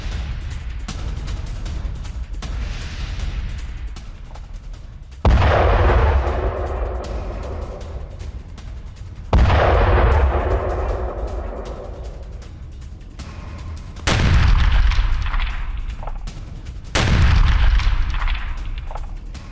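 Russian artillery firing in an attack on Kharkiv: four or five heavy booms at irregular intervals of a few seconds, each a sharp loud blast followed by a long rumbling decay over constant low background noise.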